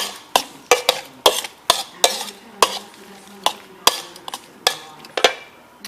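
Utensils tossing a shrimp and tomato bread salad with garlic in a bowl, irregular clattering scrapes and knocks repeating every half second or so, close and fairly loud.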